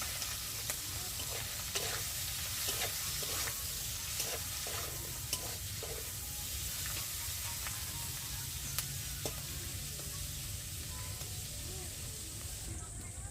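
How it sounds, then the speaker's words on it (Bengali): Salted prawns fry in hot oil, giving a steady, close sizzling hiss that holds evenly from start to finish, with faint occasional ticks and pops over the crackle. "এবার কিন্তু মাছগুলো ভালো করে লাল লাল করে ভেজে নিতে হবে।"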